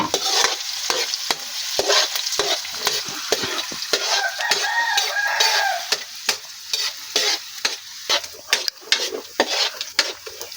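Beef adobo stirred in a frying pan, with a spatula scraping and clacking against the pan in a steady rhythm over a loud, continuous sizzle, close up and without talk.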